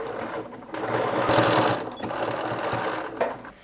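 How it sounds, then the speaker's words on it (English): A sewing machine, used while sewing a vintage Simplicity 5555 halter pattern, runs steadily through a 3/8-inch seam allowance with a continuous mechanical whir and a brief slowdown midway, close and alone. "we're going to stick that under the machine, sew it real quick"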